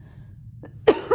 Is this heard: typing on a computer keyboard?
no